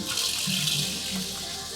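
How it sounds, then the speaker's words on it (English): A hot water tap runs in a Lotus Hollywood caravan, a steady hiss of flowing water into a sink with a faint low pump-like hum beneath, moderately quiet and close. "If I run the hot tap"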